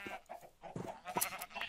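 Sheep bleating in the video game Minecraft, several short nasal bleats in quick succession over about two seconds, fairly close and moderately loud with no talking.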